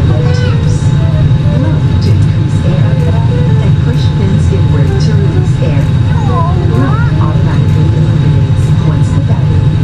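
Inside an airplane cabin, a loud, steady engine and air drone fills the space while a person talks over it.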